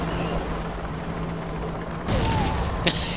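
A sticky grenade detonates in the Rogue Trooper shooter amid ongoing gunfire, giving a sudden loud burst followed by a second sharp crack, with steady battle noise underneath.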